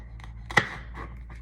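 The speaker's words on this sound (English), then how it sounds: "I'm just going to slice it into roughly about the similar size segments" A knife slices through a pepper on a chopping board: a few sharp, close cuts, one distinctly louder, separated by brief pauses, without talk.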